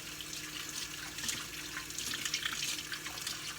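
Tap water runs steadily into a kitchen sink during hand washing before handling steak, a continuous close hiss and splash with no talking.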